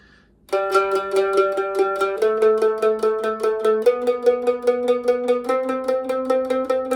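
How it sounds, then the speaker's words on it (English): A plucked mandolin plays a steady, even run of quick notes, stepping up in pitch every few beats, close and clear with no talking. "straight 16th notes in the modern count sound like this."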